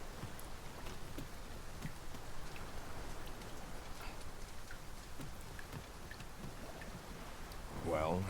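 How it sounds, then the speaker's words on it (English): Steady, dense rainfall of a video game downpour in Dragon's Dogma 2 pours down throughout, a constant wash of drops with a brief louder splash near the end. "We must be really down on our luck to get caught out in such a downpour."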